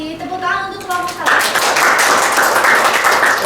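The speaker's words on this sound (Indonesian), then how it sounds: "Tepuk tangan untuk kelompok 1." Classroom clapping for a student group during an Indonesian microteaching lesson, a short burst of many hands that follows a voice and continues steadily to the end.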